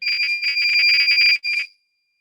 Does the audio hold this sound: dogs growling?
no